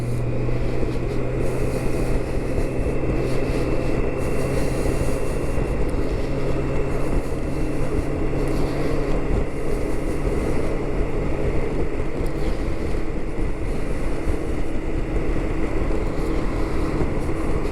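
A 2023 BMW K1600GTL motorcycle cruises at speed through strong Wyoming wind, giving a steady, dense roar of wind rush and engine drone that stays loud and unbroken from start to finish.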